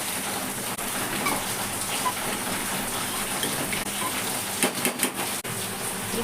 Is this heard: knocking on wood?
no